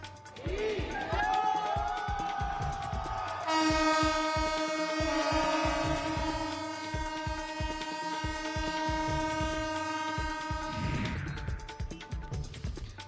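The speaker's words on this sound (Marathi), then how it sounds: "लोको पायलटनं लोकलचा हॉर्न वाजवत दणक्यात नवीन वर्षाचं स्वागत केलंय" A Mumbai local train's horn at CSMT station at midnight on New Year, blown by the loco pilot: one long, loud, sustained blast of about seven seconds over rhythmic background noise and crowd sounds.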